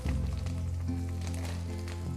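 Meatballs sizzling in a frying pan while spaghetti and meatballs are cooked, a loud, continuous crackle and hiss close by with a low hum underneath and no talk.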